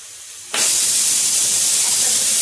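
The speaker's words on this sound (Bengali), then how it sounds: "ডালে একটা সিটি পড়লো" Pressure cooker whistle while dal cooks: a sharp hiss bursts in after a half-second of quieter background and holds loud and steady to the end.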